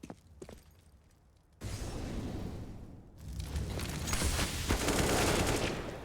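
Automatic AK rifle fire rattles in bursts in a Counter-Strike match, a quiet stretch giving way to loud, sustained shooting with sharp cracks that builds toward the end.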